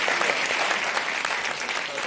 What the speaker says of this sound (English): So please join me in applauding this panel for their intervention.